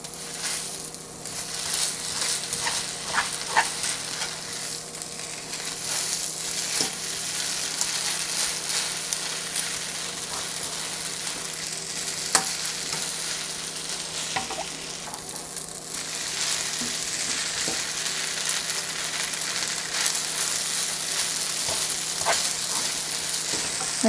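Chicken and shrimp pad thai stir-fried in a hot pan, a continuous close sizzle with repeated scraping and tossing strokes throughout, no voices.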